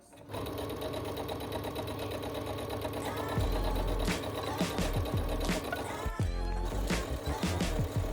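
A sewing machine stitches fabric seams in a steady, fast mechanical whir, close and continuous, with a few clicks and shifts in speed toward the end, no talking.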